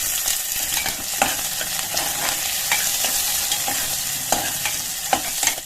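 Onions sizzle in hot oil with mustard seeds, cumin and curry leaves for an aloo baingan sabji, a dense steady crackle and spatter broken by clicks and stirring scrapes of a spoon in the pan, close and continuous with no talk.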